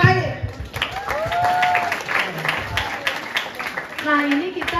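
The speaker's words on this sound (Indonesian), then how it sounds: "tepuk tangan Pak Is" At a library science student gathering, an audience claps for Pak Is, scattered claps and cheering running beneath people talking throughout.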